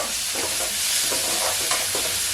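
Tomato sautéing in a pan for a potato masala, a close, continuous sizzle broken by rhythmic scraping strokes of stirring, with no voices.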